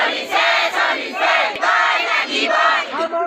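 A crowd of protesters shouts slogans in rhythmic, repeated bursts in front of the forest division office at Borguri, Tinsukia, loud and sustained with short pauses between chants.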